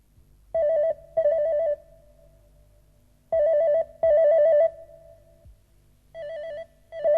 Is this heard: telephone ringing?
yes